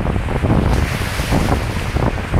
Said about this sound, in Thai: ครับวันนี้ผมมาเที่ยวชายทะเลบางแสน